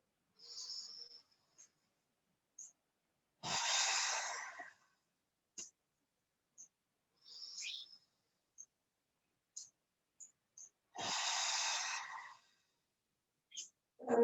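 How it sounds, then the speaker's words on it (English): Three slow, deliberate breaths taken in through the nose and let out through the mouth during a wake-up yoga flow, each a soft rushing exhale standing alone in a quiet room, with small clicks and faint movement between them. "take 3 nice cleansing breaths in through the nose, out through the mouth"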